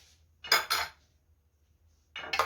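Metal utensil scraping and clinking against serving dishes as cooked chicken is ladled out in a home kitchen, two quick clatters then a pause and another clatter, close and fairly loud.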